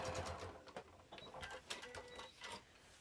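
A sewing machine stitches diagonally across the fabric corner of a project bag, a faint, uneven run of quick mechanical clicks and whirring bursts heard close up.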